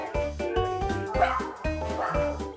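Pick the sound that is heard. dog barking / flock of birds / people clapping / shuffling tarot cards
dog barking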